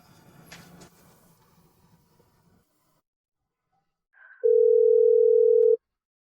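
A telephone call being placed: after some faint rustling, a short chirp sounds and then a single loud, steady electronic tone holds for over a second before cutting off, with no talking over it.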